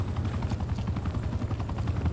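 A helicopter in the video game Call of Duty: Black Ops Cold War gives a steady, loud, rhythmic rotor thumping that runs the whole time with no talk over it.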